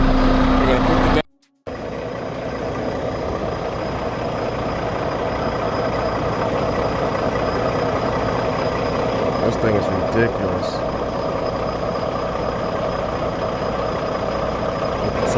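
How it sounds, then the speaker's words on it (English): A truck's motor runs steadily as a low, continuous rumble that fills the scene from start to finish, broken only by a brief dropout near the start, while a person talks over it. "I'm gonna turn the motor of the truck on"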